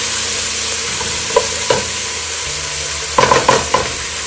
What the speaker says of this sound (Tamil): இந்த வெங்காயம் வெந்து கொண்டு இருக்குது.